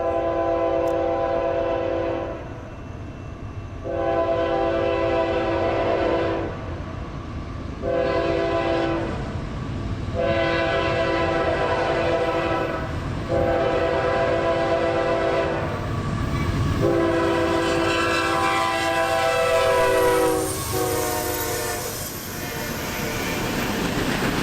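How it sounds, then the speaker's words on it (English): Manifest freight M453, led by a rebuilt AC44 locomotive, rolls past on a curve at night, sounding its horn in a series of loud, long blasts over the steady rumble and clatter of the passing cars. "M453, Waycross to Miami manifest freight"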